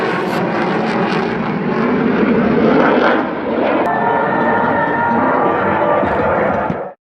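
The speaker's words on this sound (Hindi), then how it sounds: "भारतीय तकनीक से विकसित तेजस लड़ाकू विमान भी आकाश में दहाड़ते हुए दिखाई दिए।" A loud, continuous jet roar fills the air, rising and swelling as aircraft pass overhead, then cuts off abruptly.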